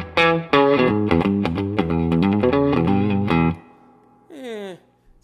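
An electric guitar played through a Soldano Jet City 20 combo amp on its twang setting, giving a bright, slightly distorted run of quick picked notes that stops, followed by a brief bent note.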